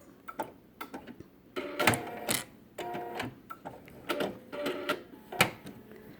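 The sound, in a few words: Bernina sewing machine sewing binding to the end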